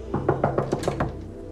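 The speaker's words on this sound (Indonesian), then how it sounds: "tiba-tiba pintu ada yang mengetuk" Knocking on a hotel room door in an action film: a series of about seven sharp, evenly spaced raps, close and clear with no talk over them.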